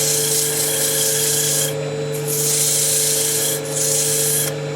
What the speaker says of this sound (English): So a little sanding in here now.